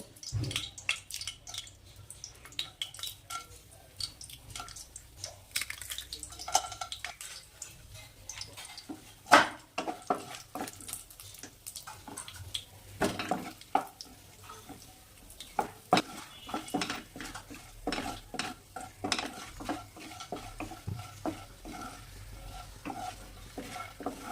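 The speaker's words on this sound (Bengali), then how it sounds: "কিছু বিউলির ডালের বড়ি এগুলোকে হালকা হাতে ভেঙে ভেজে নেব" Broken urad dal bori frying in hot mustard oil in a wok, with steady close sizzling and frequent sharp stirring clicks and scrapes throughout, no voices.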